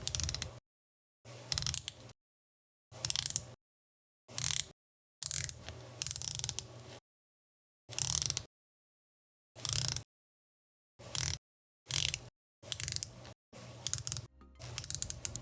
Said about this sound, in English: Now speaking of the bezel, how does it sound and how does it feel?